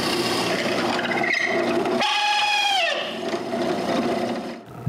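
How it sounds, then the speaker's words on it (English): Long drill bit boring a hole through the wooden body of a nutcracker, a steady grinding rasp that changes pitch partway through, then winds down near the end. "I'm going to drill a hole through the body"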